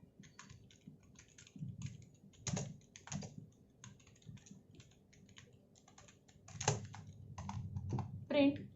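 Computer keyboard keys clicking in short irregular bursts as code is typed for a QBasic program, close and fairly soft, with a voice talking over much of it.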